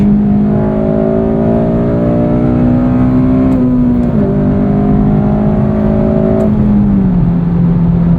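A 2009 Honda Civic Si, eighth generation, revs up while driving, its engine note rising steadily and then dropping with the gear changes, loud and continuous from inside the cabin, with no talking.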